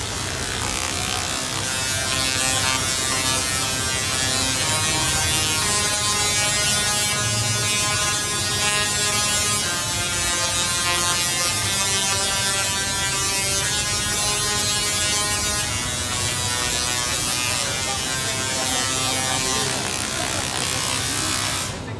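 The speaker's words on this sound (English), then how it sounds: "In the ceiling there's 4 Tesla coils, which from time to time play the soundtrack of the ride." Four Tesla coils in the ceiling of the Voltron ride at Europa Park play the ride's soundtrack as loud, harsh electric buzzing tones forming a sustained melody, continuous and dense throughout.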